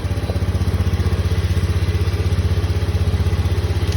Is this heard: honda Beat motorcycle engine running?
yes